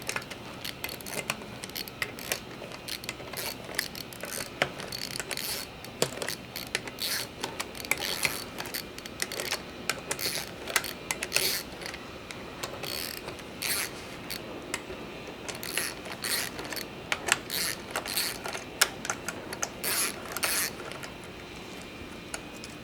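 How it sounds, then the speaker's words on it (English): Camshafts are removed from a Toyota 2JZ engine longblock, with quiet, intermittent metallic clicks, ratcheting and light clatter of parts being worked loose, close by. "So now I'm actually going to remove the camshafts."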